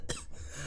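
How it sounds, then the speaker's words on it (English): A man gives a single short, harsh cough up close, a quick burst with throat clearing and no talking around it. "I just wanted y'all to hear me cough."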